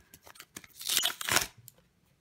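A pack of World Cup 2018 stickers is torn open, with a short burst of crinkling paper and foil tearing, close and fairly loud, between lighter rustles and handling noises.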